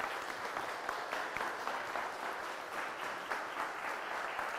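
A lecture audience claps steadily to welcome speaker Jane Paradise, a continuous even applause of many hands in a hall, with no voices over it.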